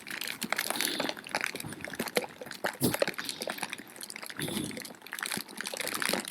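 Steady rain pours and patters around a motorcyclist at the coast, a continuous wet hiss with uneven splashes rising and falling, fairly close and with no voices.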